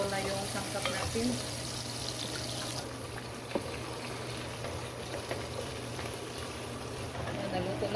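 Bottle gourd (upo) goes into a frying pan with browned aromatics for a sardine dish, a steady broadband sizzle running throughout, loud and close, with a few clatters and a voice talking over it.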